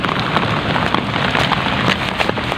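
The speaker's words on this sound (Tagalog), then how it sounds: "Bale, umuulan." Steady rain falling outdoors at dusk during a fishing outing, a dense continuous hiss with scattered sharper drop taps throughout, fairly loud and close with no talking.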